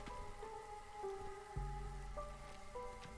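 Drizzle rain in the rainpunk city-builder Against the Storm falls as a steady, soft patter that runs the whole time beneath sustained musical tones, with no voices.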